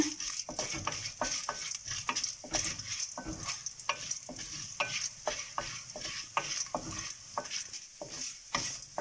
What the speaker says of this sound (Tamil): உளுத்த பருப்பு வரமிளகாய் மூணு நாளையும் போட்டு வறுத்து எடுத்துக்கலாம்